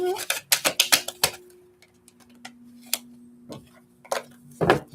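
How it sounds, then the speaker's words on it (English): Tarot cards shuffled and riffled by hand, giving bursts of sharp, close snapping and ticking clicks in clusters, separated by quieter gaps with a faint steady hum underneath. "I have to shuffle that again"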